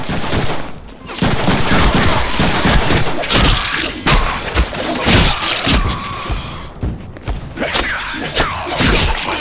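Heavy gunfire and impacts in the Deadpool video game, loud, dense bursts of shots with thuds and crashes, close and chaotic over several seconds.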